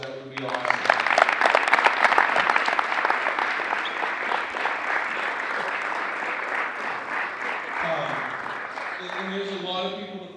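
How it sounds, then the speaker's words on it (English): A basketball team applauding the crowd at a boys' state championship celebration: sustained dense clapping from many hands, loud at first and easing slightly, with voices and cheers mixed in and a voice emerging near the end. "if we could actually give the crowd a round of applause, that would be awesome"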